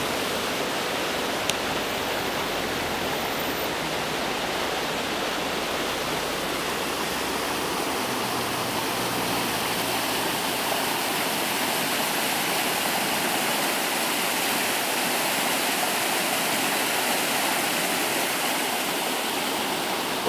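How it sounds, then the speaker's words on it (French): River Essonne flowing at the border of Ormoy and Villabé, a steady rushing water noise that stays even and close for the whole stretch, with no voices. "Voici la rivière de l'Essonne, à la limite des communes d'Ormois et de Villa B."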